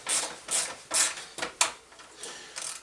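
A series of short, bright metallic ratcheting strokes, roughly five, as a 13 mm open-end wrench tightens crash bar bolts on a KTM 690 Enduro motorcycle, close up, followed by softer clicks.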